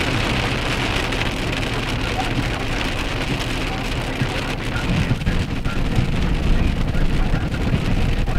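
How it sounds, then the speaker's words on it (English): Hail and heavy rain strike a vehicle during a thunderstorm, a dense drumming patter that grows louder in the second half, with low rumbling underneath. "the hail just got a little bit bigger"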